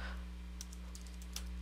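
A computer keyboard is tapped while a password is entered, giving a few quick, light clicks in small uneven clusters, faint and close over a steady low hum.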